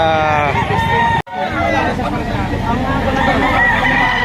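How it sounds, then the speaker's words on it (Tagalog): Several roosters crow loudly at a crowded chicken market in Lipa, Batangas, one long call cut off abruptly, then more overlapping crows amid the babble of people talking. "Daming manok."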